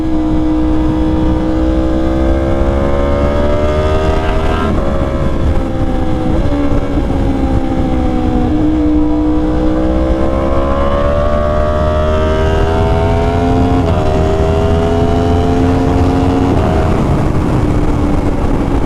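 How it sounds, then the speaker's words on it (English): A Yamaha R1 motorcycle exhaust rumbles continuously nearby, its pitch rising and falling with throttle changes, the sound echoing off parked cars close by. "the echo of this exhaust off the cars next to me"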